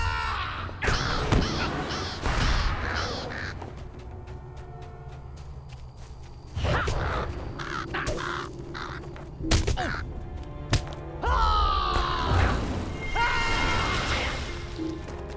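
Crows in the LOTRO video game caw loudly and repeatedly in harsh bursts, mixed with footsteps and crashing in-game effects, a few calls overlapping near the listener.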